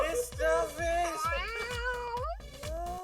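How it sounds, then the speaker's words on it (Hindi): A cat meows repeatedly, a string of close, clear, wavering meows with short gaps between them. "फिर से म्याऊं म्याऊं किया।"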